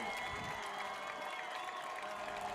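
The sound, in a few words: Raiders fans cheering at a football game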